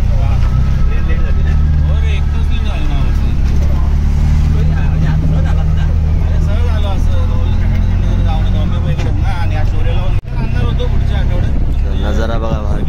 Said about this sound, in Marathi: आता आम्ही चाललो आरगावमध्ये रिक्षाने।